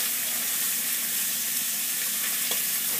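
Bacon frying in a pan gives a steady, close hiss and crackle, with one faint clink partway through and no talking.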